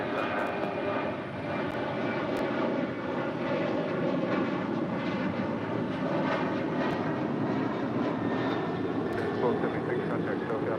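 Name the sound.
Southwest airliner taking off from runway 25 right at LAX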